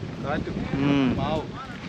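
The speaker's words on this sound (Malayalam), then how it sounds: "നല്ല കാറ്റുമുണ്ട്." Strong wind buffets the microphone in low, rumbling gusts, with a faint voice murmuring beneath.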